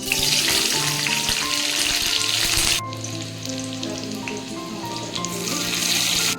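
Vegetables sizzle steadily in hot oil in an Odia kitchen while cooking simei upama, a loud, dense frying hiss that drops briefly partway through and then swells again, with no talking.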